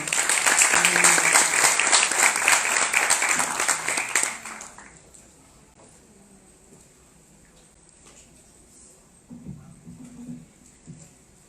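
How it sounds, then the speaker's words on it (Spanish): An audience at a sports supplementation talk applauds to welcome a nutrition speaker, loud, dense clapping for about four seconds that quickly dies away into a quiet room, followed by a voice speaking. "Recibámoslo con un fuerte aplauso"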